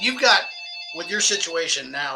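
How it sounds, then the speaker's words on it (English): A telephone rings during a live conversation, giving a short electronic trill that sounds between bursts of speech. "sorry about the phone ringing"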